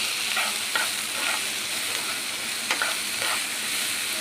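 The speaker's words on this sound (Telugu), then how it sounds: "ఇప్పుడు మనం దీంట్లో 1/2 స్పూన్ జీలకర్ర, కొంచెం కొత్తిమీర వేసుకొని బాగా మిక్స్ చేసుకోవాలి." Cumin seeds and coriander being stirred into a hot pan while making ivy gourd chutney, a steady frying sizzle with a few soft scrapes and clicks of the spoon, close and without talk.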